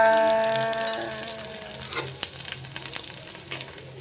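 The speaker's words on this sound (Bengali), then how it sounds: "পাঁপড় ভাজা কমপ্লিট হয়ে গেছে" Sago papad fries in hot oil, giving a bright crackling sizzle that starts with a brief tonal ring and settles into a bubbling hiss with sharp pops, close and without speech.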